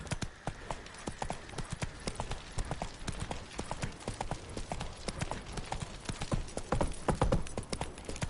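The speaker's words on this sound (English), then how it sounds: "Time to water the horses." Horse hooves clip-clop steadily at a walking pace in The Witcher 3, a regular clear rhythm of close hoofbeats with some faint background ambience and no talk.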